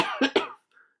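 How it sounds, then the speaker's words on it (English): A man coughs twice in quick succession, close and fairly loud, two harsh bursts that follow a breathy rasp, then a faint trailing sound fades into quiet. "who often broke into a spate of coughing whenever he began to speak"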